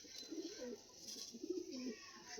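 Pigeons of mixed breeds coo softly in a home loft, two soft rounds of low, rolling coos a moment apart over a steady hiss, with no talking.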